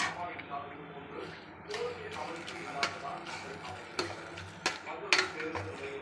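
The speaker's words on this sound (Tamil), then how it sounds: "இப்போ பூண்டும் சின்ன வெங்காயத்தையும் அதில் கலந்துடலாம்." Garlic and small shallots stirred into a simmering soup pot, with scraping spoon clinks against the pot and faint bubbling under a steady low background, several sharp clacks.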